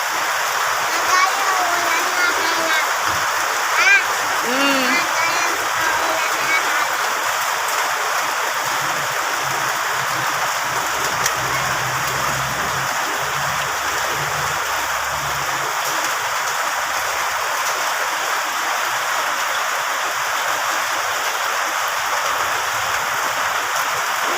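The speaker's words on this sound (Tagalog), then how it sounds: "Mapatuloy naman sa pag ulan" Steady rain hissing evenly throughout, with faint low sounds underneath and no clear talking; a rainy-season downpour.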